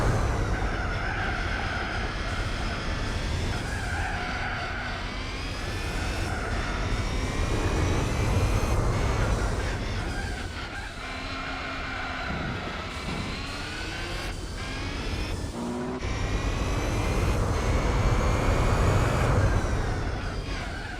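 A race car engine in the video game Gran Turismo 4 roars continuously with a loud, sustained, harsh drone that rises and falls slightly in intensity over a long stretch, with no talking.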